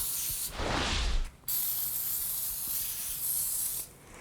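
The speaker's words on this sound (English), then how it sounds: "Now coat both sides of the blade really well with the cleaner." Household oven cleaner sprayed from a can onto both sides of a circular saw blade: one long hissing burst, then a second continuous spray, close and loud with no talking.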